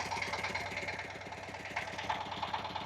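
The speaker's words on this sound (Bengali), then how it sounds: "ওনার মেশিন ফাইনালি স্টার্ট হয়েছে, দেখছেন?" A rice planting machine's engine runs steadily just after starting, a close, loud, rapid chugging with an even mechanical throb and vibration throughout.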